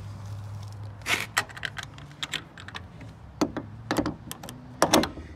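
Metal RV-style side door and metal hold-back latch on a 2021 Sure-Trac 8.5x16 ft enclosed cargo trailer, giving a series of sharp metallic clicks, clacks and knocks in uneven bursts, close by with no talking.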